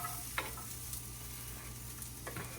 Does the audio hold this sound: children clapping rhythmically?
no